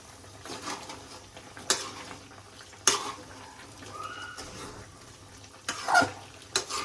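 Spicy chicken stirred in a cooking pot, with intermittent scraping and clinking utensil strokes and soft bubbling, faint voices now and then in the background.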